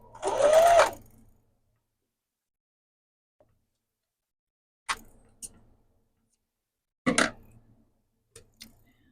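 A domestic sewing machine stitching a quilt-as-you-go mug rug: one longer whirring run at the start, then short, sharp bursts and taps separated by long silences, close and clear with no voices.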